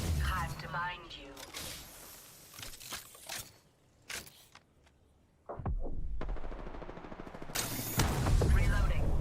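Video game shooter gunfire crackles in quick bursts, with loud sharp shots clustered near the start and again toward the end, partly under a speaking voice.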